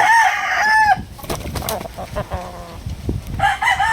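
A wine red Kelso gamecock rooster crows loudly and close by, two crowing calls bracketing a stretch of clucking and farmyard bird noise in a backyard setting.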